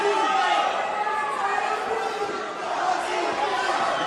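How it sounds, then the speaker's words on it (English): Crowd at a Venator FC mixed martial arts bout between Alessandro Botti and Leonardo Zecchi shouting a fighter's name in the fifth round, a steady loud roar of many voices with chanting swells throughout. "crowd shouting for Botti's name"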